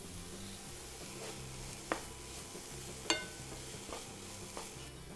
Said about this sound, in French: On va à nouveau mélanger et on va laisser cuire à feu doux moyen pendant à peu près 10 minutes